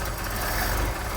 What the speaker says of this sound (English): That's your fast idle.